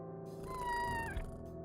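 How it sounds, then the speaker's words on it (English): A cat meows when petted in the video game Kathy Rain 2, one drawn-out, rising and falling meow heard clearly over a soft steady game background. "Ah, you can pet the kitty."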